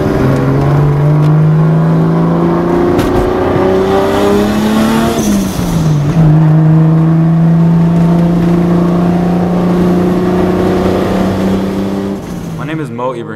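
A 1994 Toyota Supra Mark IV's engine revs loud and close, its pitch climbing steadily, dipping briefly at a gear change, then rising again before tailing off, with speech faintly mixed in.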